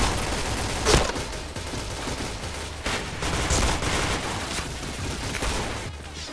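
Bursts of rapid gunfire from a first-person shooter video game crackle in quick fusillades, with sharp individual shots standing out among dense automatic fire and background game noise, no talk.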